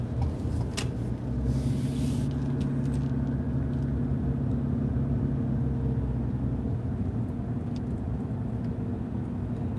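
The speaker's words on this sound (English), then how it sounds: "I'm driving a hybrid right now too" Steady low road rumble and engine drone from inside a moving hybrid car during a gig-work ride, continuous and fairly loud throughout with no speech.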